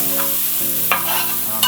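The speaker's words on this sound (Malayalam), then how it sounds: "നന്നായി വാട്ടി കൊടുക്കണം" Onions sauté in a pan for a Thrissur-style kolli chicken curry, a steady close sizzle broken by scraping stir strokes of a spoon against the pan.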